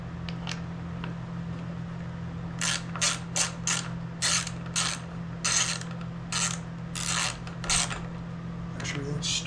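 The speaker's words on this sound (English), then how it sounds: "Grab an extension with a socket wrench." A ratchet socket wrench on an extension clicks in quick bursts of rapid pawl ticks while servicing a Honda HRR216 lawn mower, close up over a steady low hum.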